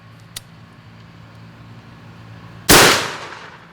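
An AirForce Texan .458 big-bore air rifle fires a 330-grain ballistic tip bullet in a single loud, sharp report that rings out briefly after a few seconds of quiet outdoor background.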